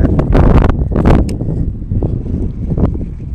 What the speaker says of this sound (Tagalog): lumalakas lang ang hangin amihan